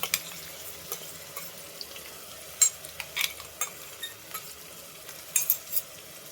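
Onion paste sizzles in hot oil while a spoon stirs it in a pot, with soft scraping strokes and brief clinks repeating close up over a low, steady frying hiss, for a village-style country chicken curry.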